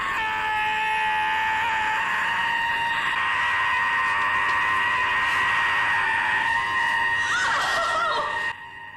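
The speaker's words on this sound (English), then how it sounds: "This primal howl." A primal, inhuman howling scream from the Torchwood episode Adrift, a sustained harsh tonal wail with bleat-like wavering, loud and close, running unbroken for about eight seconds before cutting off abruptly.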